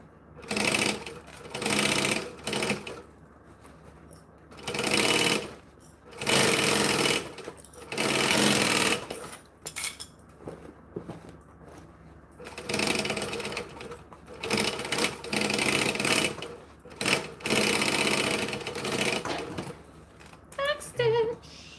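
A sewing machine stitches waterproof fabric in repeated whirring bursts that start and stop every second or two, close and loud, with short pauses between runs.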